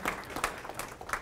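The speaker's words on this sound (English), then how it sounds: "give him a round of applause." A small audience claps briefly, a scattered patter of hands at moderate distance with no one speaking.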